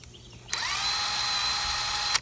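A DeWalt DCF891B cordless impact wrench on a low speed setting runs in one steady, loud whir of about one and a half seconds, starting and stopping abruptly, close up with no voices.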